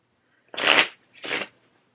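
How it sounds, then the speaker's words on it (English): A deck of cards being shuffled, two quick riffling bursts close up, the first longer and louder than the second, with silence around them. "one more shuffle."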